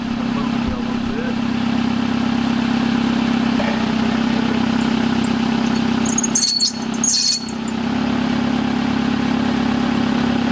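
An early-2000s Hyundai Elantra engine idles with a steady hum while the power steering is turned to full lock, and a brief high squeal rises over the idle partway through.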